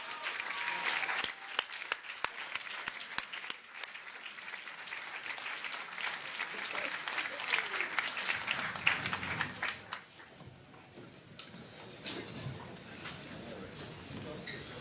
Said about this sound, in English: let's give them one more round of applause now that we've got them all up here.